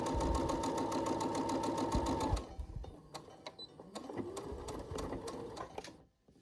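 A sewing machine stitches a fabric face mask, humming in a fast, steady run close by for a couple of seconds, then slowing into intermittent ticks and clicks before stopping.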